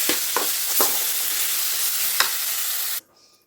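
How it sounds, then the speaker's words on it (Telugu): Cooked rice is stirred into a mango pulihora tempering with turmeric, salt and curry leaves, giving a loud, close sizzle broken by a few scraping strokes before it cuts off suddenly near the end. "ఇప్పుడైతే అన్నం వేసి మంచిగా కలిపిస్తా"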